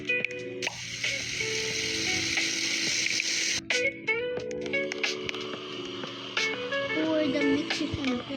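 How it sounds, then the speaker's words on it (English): Mechanical whirring and rattling from a blender mixing a batter in a cooking video game, set against a steady game soundscape, with a few brief clicks and interruptions partway through. "I'm gonna blend it."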